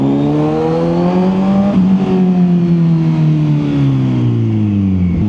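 A 2025 Kawasaki Z900 SE motorcycle engine revving loud and close, its pitch climbing, dipping between gear changes, then rising again in smooth throttle sweeps with no talk.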